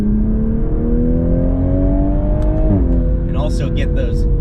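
Toyota GR Supra engine on a manual-mode downshift, a steady loud drone whose pitch climbs and then dips with a blip around the shift, followed by crackling pops from the exhaust, all heard close and continuous.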